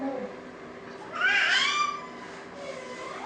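A cat meows in a drawn-out, wavering cry, fairly close, with quieter mewing sounds before and after and faint background noise.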